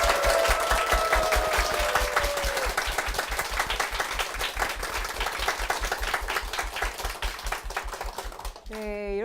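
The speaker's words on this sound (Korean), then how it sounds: "담임 목사님과 교회를 위해서 힘찬 박수 부탁드리겠습니다" Loud, steady applause from a church congregation during a Korean Christian television broadcast, sustained dense clapping that fills the room for several seconds before tapering off at the end.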